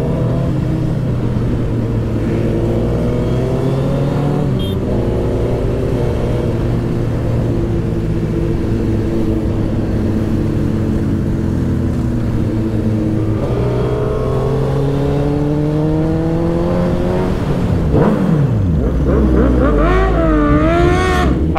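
A Suzuki Hayabusa motorcycle engine revs loudly and close, its pitch climbing and falling in repeated sweeps, with a sharp burst of high revs near the end.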